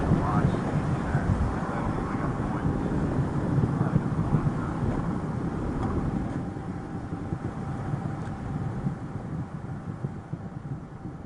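Space Shuttle Atlantis on its final launch, STS-135, climbing toward solid rocket booster separation: a continuous, distant broadband roar with crackling rumble that slowly thins and fades over several seconds.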